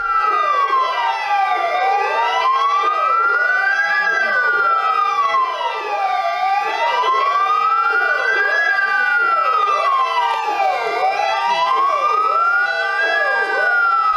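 Loud, continuous wailing fire engine sirens rise and fall in long sweeps, several overlapping at once, close and dominant with no talk, in Kharkiv.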